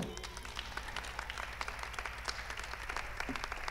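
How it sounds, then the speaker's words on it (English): Applause from a crowd, dense steady clapping filling the whole stretch with no pause. "Another applause for Kulu."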